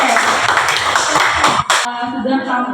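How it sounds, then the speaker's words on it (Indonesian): A group of students applauds in a classroom during a guidance session, loud, dense clapping that stops abruptly after a couple of seconds and leaves faint room sounds. "Tepuk tangan dulu. Kita tepuk tangan."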